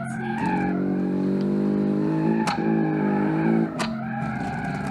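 A rally-style coupe's engine in the racing game Automation drones loud and steady, its pitch wavering as the car understeers, with brief sharp impact bursts partway through.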